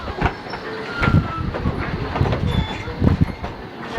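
A heritage railroad train on the Strasburg Railroad rumbles along the tracks with rhythmic clickety-clack from the wheels, close and steady, with no voices.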